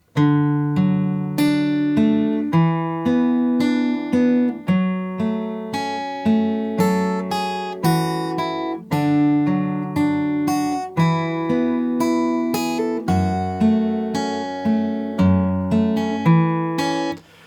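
A plucked guitar plays the slow melody of a song from The Last of Us, notes ringing one after another with gentle decay, alone and close.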